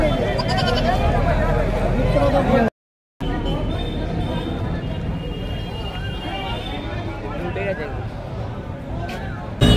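Goats bleat amid the crowded bustle of a busy goat market, their calls mixing with constant loud crowd babble and nearby talk, with a brief dropout partway through.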